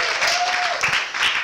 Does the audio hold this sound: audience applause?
yes